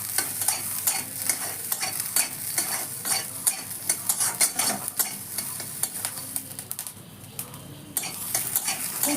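Chopped green chilli and onion fry over a high gas flame in a pan for a soya chilli dish, a steady close sizzle broken by repeated scrapes and clinks of a spatula stirring against the metal.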